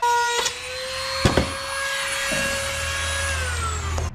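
A power tool whining steadily as it cuts a circle out of a fiberglass panel, a loud high-pitched motor tone with a few sharp knocks, the pitch dropping as it winds down at the end.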